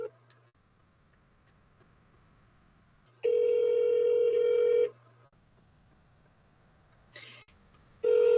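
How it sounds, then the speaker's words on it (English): A phone call placed to a toll-free 800 number: a low hum runs under faint ticks, then a loud steady ringback tone sounds for about two seconds, pauses, and starts again near the end. "So let me dial this and hopefully you'll be able to hear it."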